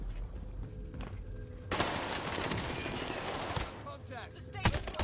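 A human voice imitates machine gun fire: after a quieter opening, a dense rattling burst of mouth-made automatic shots starts and runs on loudly and close.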